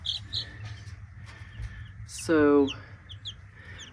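Newly hatched chicks peep in a small incubator brood, with faint, high, short chirps scattered through the clip, a louder harmonic call near the middle, and a brief spoken word.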